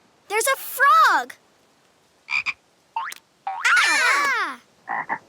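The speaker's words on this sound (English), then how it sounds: "Hey, look! There's a frog." Cartoon frog croaks in several bursts, some long and warbling, others short and clipped, loud and close, with a child-like cartoon voice mixed among them.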